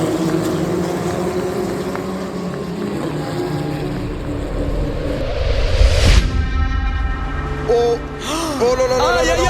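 Race cars roll out for warm-up laps at the GP Explorer event, a loud continuous engine drone rising in pitch, then sharp revving with rapid pitch sweeps as cars pass nearby.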